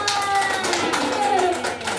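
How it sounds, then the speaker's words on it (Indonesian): Children in a classroom clap their hands together in a quick burst of brisk, overlapping claps lasting a couple of seconds, close by, with voices mixed in. "Tepuk tangan."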